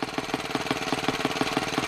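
Muravey motor scooter engine revving close by, a rapid, even chugging beat of loud pulses with no talk.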